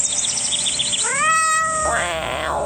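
A cat meow sound effect plays as a live-stream gift alert: one bright, rising-then-falling meow with a second drawn-out cry right after, loud and clear over a quiet background.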